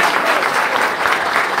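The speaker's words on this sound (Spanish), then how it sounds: "Fuerte, fuerte, fuerte el aplauso." Dense, sustained crowd applause at an ambulance handover ceremony in Río San Juan, loud and even throughout without pauses.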